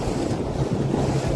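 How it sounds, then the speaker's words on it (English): Wind buffets the microphone on a boat out on a lake, a constant loud roar with rumbling gusts and water noise throughout. "It's a little bit windy"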